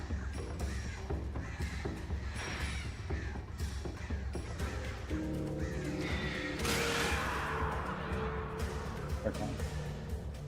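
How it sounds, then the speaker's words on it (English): Crows caw repeatedly in a loud, harsh series, with a person talking at the same time. "Birds."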